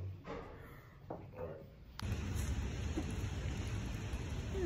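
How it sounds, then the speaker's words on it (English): Steady rain falling outside after dark near an Atlanta rental, a hissing wash that starts abruptly halfway through and continues loud and even, with faint voices and movement before it. "It is raining."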